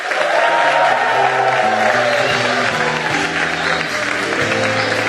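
A Baptist church congregation claps steadily to welcome its pastor, the broad wash of applause and crowd noise running continuously over sustained background music.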